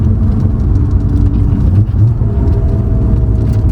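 Nissan R32 GTR Skyline fitted with a new 800 hp gearbox, heard from inside while downshifting to third; a loud, steady engine drone with a brief rev change in the middle, no talking.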